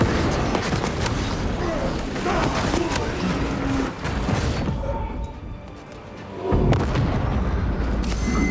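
Heavy battle noise from Warhammer 40K Space Marine 2, with a frag grenade blast among continuous booming gunfire and explosions, loud and dense throughout, easing briefly before another surge.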